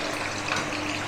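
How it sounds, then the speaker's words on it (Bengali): Homemade masala potato chips fry in hot oil with a dense, steady sizzle that stays close and even from start to finish. "আরও কিছুটা দিয়ে ভেজে নেবো।"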